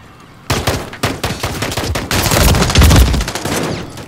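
Close, loud gunfire in Call of Duty Modern Warfare 3 multiplayer: bursts of rapid shots cracking in quick succession, with a heavier stretch of continuous fire near the end.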